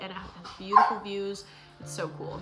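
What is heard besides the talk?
dogs barking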